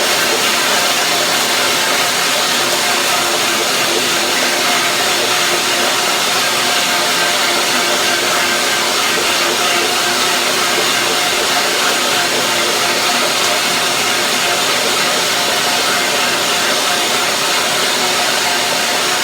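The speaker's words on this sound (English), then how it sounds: "Let's see the blender dance" A blender whirring through a cashew cream dressing with mustard seed and onion powder, a loud, continuous, even motor whine that runs unbroken for the whole stretch without speech.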